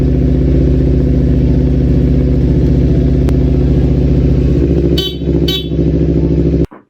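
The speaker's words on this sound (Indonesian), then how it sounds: "setelah ritme penekanan dan suara klakson itu selaras" A repaired Kawasaki Ninja 250 motorcycle sounds its horn in a loud, sustained blare, held for several seconds with short breaks near the end before cutting off abruptly.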